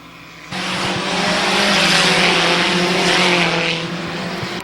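Race cars roaring past a trackside microphone at Midvale Speedway, the engine noise surging suddenly to a loud, sustained pass before easing off.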